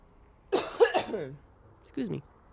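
A couple of short, rough coughs close by, the first a longer fit and the second a brief single cough.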